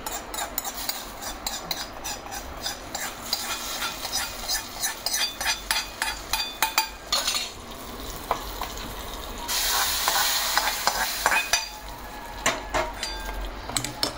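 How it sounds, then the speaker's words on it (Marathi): Hot tempering poured into a chutney sizzles and spits, with brisk clattering spoon stirring against the pot and a louder burst of hissing midway before it settles into scraping. "आता ही फोडणी गेली. यात चटणीमध्ये."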